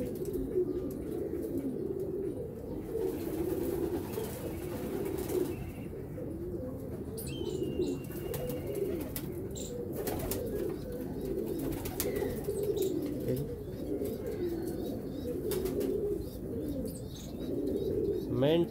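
Sialkoti pigeons cooing steadily in a loft, a continuous low murmur of many birds close by, with occasional wing flaps and someone talking quietly in the background.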